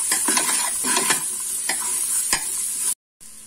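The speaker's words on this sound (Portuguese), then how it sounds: "Deixa eu refogar um pouquinho para depois entrar com os outros ingredientes." Onion for lentil soup sautés in a pot with a bright, steady sizzle, broken by several close stirring scrapes, before a sudden short cut to silence near the end.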